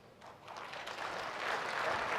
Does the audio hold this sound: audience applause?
yes